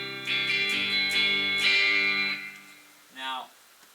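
Electric guitar played through a '65 Twin Reverb amp model in GarageBand, with several sustained, ringing chords in a row, then a pause and one short, quieter note at the end. No voices.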